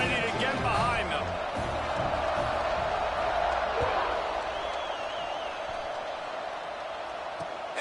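A football stadium crowd roars in a continuous dense wash just before kickoff in a Texas versus Nebraska game, with whoops and yells rising through it while an announcer talks over it.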